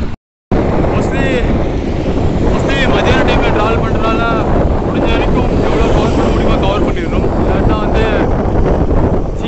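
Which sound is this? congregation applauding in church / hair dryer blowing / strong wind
strong wind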